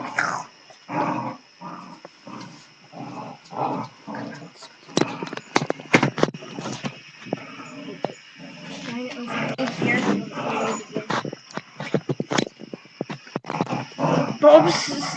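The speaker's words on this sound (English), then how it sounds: "Typical dogs. Always fighting." Dogs growl and snarl in repeated rough bursts during a scuffle, loud and close, with voices breaking in now and then.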